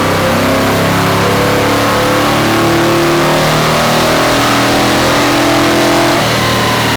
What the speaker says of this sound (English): we got the car strapped up onto the dyno and we started making power pulls